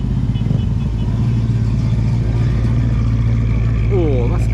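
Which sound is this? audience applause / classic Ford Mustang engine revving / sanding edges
classic Ford Mustang engine revving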